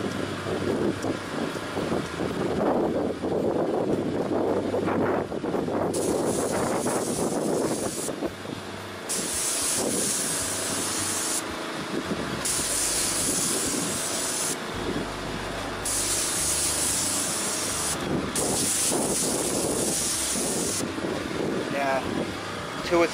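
Paint is sprayed thickly onto a residential roof during a cleaning and recoating job. A continuous airy spray hiss cuts in and out in several long bursts, with voices talking over it.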